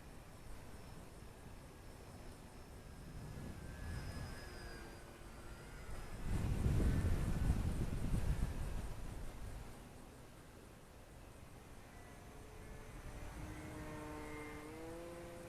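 Fun Cub 1100mm RC STOL bush plane flying stall turns, a faint, distant electric motor buzz that swells louder mid-flight and then fades, with rising and falling pitch, no talk.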